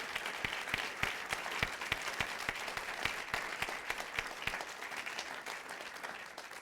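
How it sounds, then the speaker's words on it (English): Steady audience applause at a charity awards ceremony, dense and continuous with distinct individual claps popping through, fairly distant and even in level from start to finish. "So let's give them a special round of applause."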